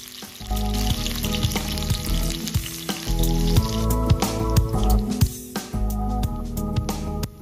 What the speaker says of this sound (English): Sauté the onions first until fragrant.